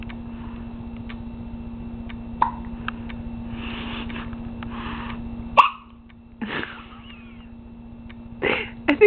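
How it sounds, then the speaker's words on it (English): A baby gives a few short hiccups spaced across the clip, one caught together with a yawn, over a steady low hum in a quiet room. "I think that was a yawn and a hiccup together."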